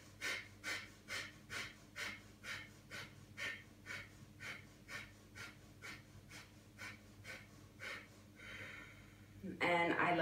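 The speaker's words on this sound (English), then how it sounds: "I inhale fully. I exhale fully for the first time." Deep yoga breaths on a mat, a steady series of about fifteen rhythmic inhales and exhales, close and clear, ending in a louder burst of noise.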